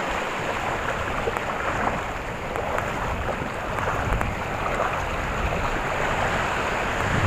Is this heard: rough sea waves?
yes